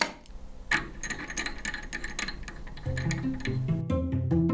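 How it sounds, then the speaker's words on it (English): A vacuum pump is screwed onto a chamber with a rapid ratcheting, clicking twist of threaded parts up close, followed by a low steady mechanical hum. "Next, screw the pump on."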